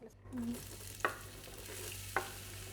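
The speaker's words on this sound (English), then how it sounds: "we're gonna cook first a little bit the onions" Onions frying in a pan, with a steady close sizzle and two sharp scrapes or clinks of a utensil against the pan.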